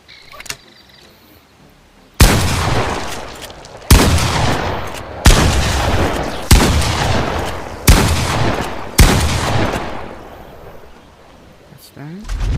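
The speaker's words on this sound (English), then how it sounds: "It's a rare shotgun." A shotgun in the VR game Bonelab fires six loud, sharp blasts at roughly one-and-a-half-second intervals, each with a decaying tail, after a quiet opening.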